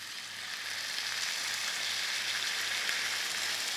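Lentils and vegetables sizzle and fry steadily in a hot pan, a continuous close crackling hiss with no talking.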